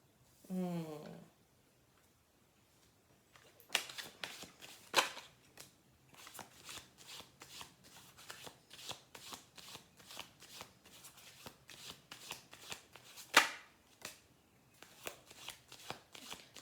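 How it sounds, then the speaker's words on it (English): A deck of tarot cards is shuffled close by in a long series of quick, crisp riffling and flicking bursts, quiet overall, after a brief voice at the start. "I'm going to finish the shuffle through."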